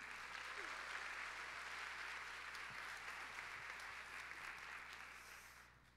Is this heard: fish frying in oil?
no